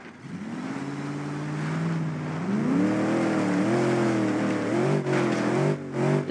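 A damaged truck still driving after a crash, its engine droning steadily and rising in pitch as it revs up, loud and close, with a few sharp knocks and rattles near the end.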